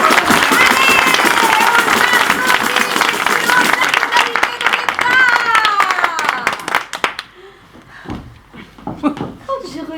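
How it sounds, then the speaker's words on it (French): A theatre audience breaks into dense clapping that fades out after about seven seconds, leaving scattered claps, footsteps and voices talking in the hall. "méritent naturellement des applaudissements."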